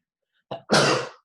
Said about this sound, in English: let me sneeze. Let me sneeze.